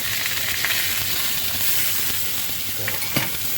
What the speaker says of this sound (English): You want it seared on the outside.